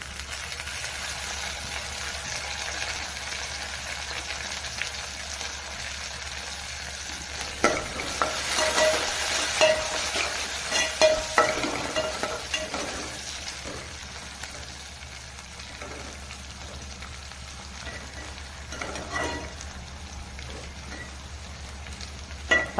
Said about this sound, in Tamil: பச்சை மிளகா பாருங்கள், இந்த மாதிரி வெள்ளை வர வரைக்கும் கொஞ்சம் வதங்கினா தான் நல்லாயிருக்கும்